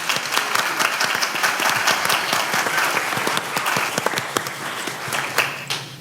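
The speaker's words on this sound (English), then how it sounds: "Let's give Mr. McDowell a round of applause." Audience applause at a Berkeley County School District board meeting, steady dense clapping from a crowd filling the room throughout, with a few sharper individual claps standing out near the end.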